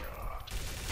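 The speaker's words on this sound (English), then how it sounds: "Why am I shooting at my own team?" Rapid gunfire from Counter-Strike: Source in Gun Game mode, a loud dense burst of shots filling a single second, with a voice partly underneath.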